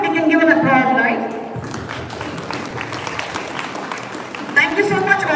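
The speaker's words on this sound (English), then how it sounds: "Yes, now we can give an applause" Award ceremony audience clapping steadily for several seconds, moderately loud and even, with a presenter speaking at the start and again at the end.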